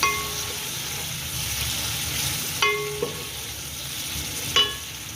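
Onions browning in a pan on the stove give a steady close sizzle of frying throughout, with a few sharp clinks of a stirring spoon against the pan and no talking.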